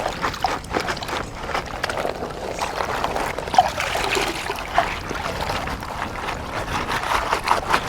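A cloth bag is worked back and forth in water like fabric being washed, giving continuous splashing, sloshing and trickling close by for several seconds.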